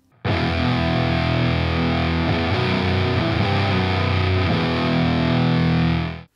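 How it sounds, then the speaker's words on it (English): Guitar through a KMA Guardian of the WURM HM2-style distortion pedal, giving a heavy, buzzy chainsaw-metal tone: a loud, dense, saturated riff that starts abruptly and rings on for about six seconds before cutting off, with no talking. "the HM2 is probably most famous for its crazy heavy chainsaw metal sound, which mainly sounds like this."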